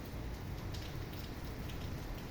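Steady rain falling in Recife, a dense even hiss of drops spattering on surfaces, constant and fairly close with no voices.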